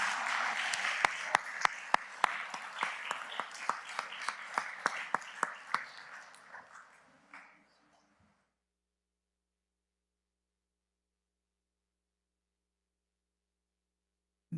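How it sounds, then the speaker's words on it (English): A school board meeting audience gives a round of applause for a retiring chief, dense clapping that builds for several seconds and then fades out, leaving silence. "One more time, please, a round of applause for Chief."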